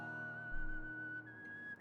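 Whistled melody from the music of the Live-A-Live Remake video game: a clear, sustained whistle tone holding one pitch and then stepping up, over soft backing instruments with a low pulse.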